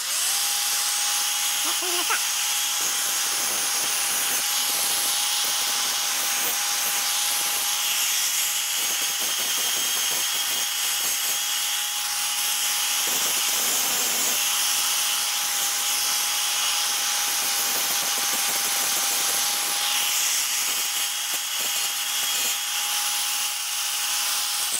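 A power tool grinds steadily against a lawn mower blade still on the deck, a loud continuous abrasive whine with a sustained tone, close and alone for the whole stretch.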